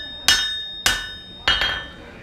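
Three sharp metallic hammer blows ring out on an anvil while a knife bevel is forged, each strike bright and clangy with a short decaying ring, the last one followed by a quick bounce hit.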